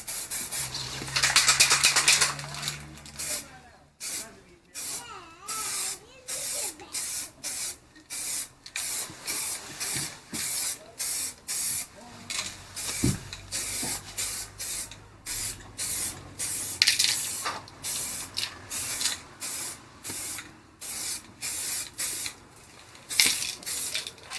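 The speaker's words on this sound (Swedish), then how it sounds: "Så då ska vi sätta igång och spraya de här sargerna svarta" Aerosol spray paint hisses in short repeated bursts as black paint is applied to trim pieces for a Volvo 740, a rhythmic close series of spray pulses and pauses.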